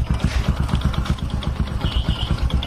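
A Honda Supra X 125 motorcycle, being checked for an electrical and starter fault, runs at idle with a steady, rapid close-up putter and a faint mechanical clatter throughout.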